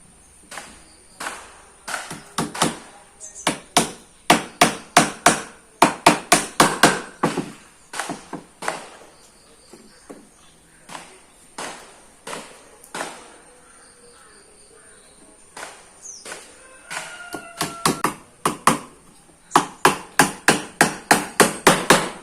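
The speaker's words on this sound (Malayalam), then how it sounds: "ഓരോ ആണി കൊടുക്കാം." Nails are hammered into a wooden stingless bee box: loud, crisp hammer blows in quick bursts of several strikes each, separated by short pauses, with no talking.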